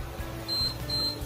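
An induction cooktop gives short, high-pitched electronic beeps as its timer button is pressed, about three evenly spaced tones over a low steady hum.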